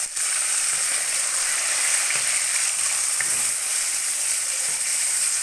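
Chicken pieces hit browned onions in a hot pan for tinde gosht, giving a steady, bright, close sizzle and hiss that runs unbroken, with faint stirring scrapes and no talking.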